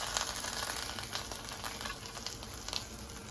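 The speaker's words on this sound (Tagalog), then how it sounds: "Igigisa na natin yung marinate natin" Marinated beef tapa sautéing in garlic oil gives a steady close sizzle with scattered crackles and pops throughout, no voices.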